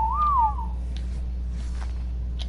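A single short whistle command in the Ark game, a rising then falling tone lasting about half a second, heard over a low steady hum with faint ambient noise after.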